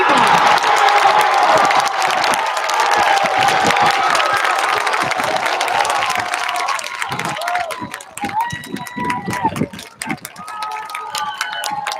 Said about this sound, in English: Let's have a big round of applause for our homecoming court